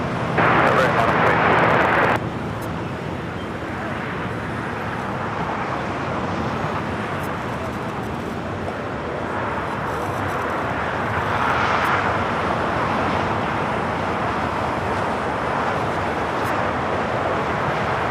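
American Airlines airliner on takeoff roll from runway 25 Right at LAX, a steady broadband jet engine roar building and sustained throughout, with a brief louder burst at the start and radio tower talk over it.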